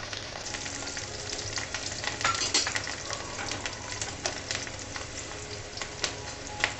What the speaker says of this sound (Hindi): उसके बाद हमने लहसुन जो हमने छिला हुआ है ये डाल देंगे